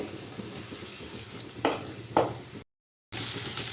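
Ground spices, including cumin powder, fry in a pan for chana dal with a soft, steady sizzle. Two louder scraping stirs break through, then a brief silent gap before the sizzling resumes.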